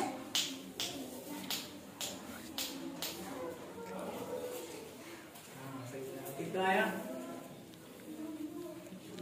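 Crisp finger snaps, about half a dozen evenly spaced, counted aloud during a classroom maths counting activity, with a voice talking through most of the snapping.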